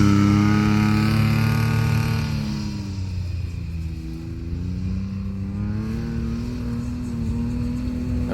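A 2023 John Deere XUV 835M side-by-side with a 54 hp 3-cylinder gas engine drives over sandy, bumpy ground, its steady, moderately loud engine hum shifting pitch as it slows and picks up again.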